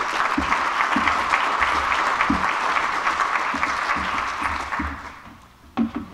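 Audience applause for speaker Steve Trimble at a symposium: steady, fairly close clapping from a crowd that thins and fades out near the end, with a few last claps.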